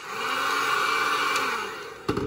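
A heat gun blows steadily while warming vinyl film stretched over a car headlight for eyelid trim, a continuous airy whir held for about two seconds before a short knock near the end.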